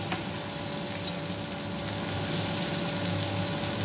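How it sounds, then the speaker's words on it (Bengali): Marinated chicken pieces frying in a generous amount of butter for butter garlic chicken, giving a steady, close sizzling hiss with no pauses and no voices. "ম্যারিনেট করা চিকেনগুলো আমি একটু ভেজে নেব সব"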